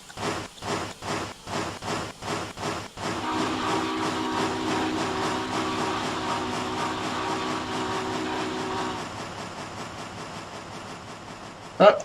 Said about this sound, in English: Train takes off.